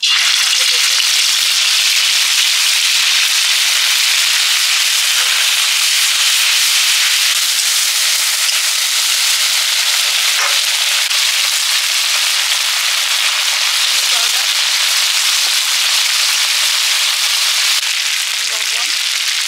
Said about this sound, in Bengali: এবার দেব বাটা মশলা, পাকা লঙ্কা কিন্তু কাঁচা, জিরে, আদা একসঙ্গে বেটে নিয়েছি।